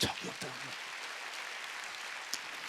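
A congregation claps during a Wednesday worship service at a church. A brief voice opens, then a faint, even wash of many hands carries on at a distance, with one sharper clap standing out near the end.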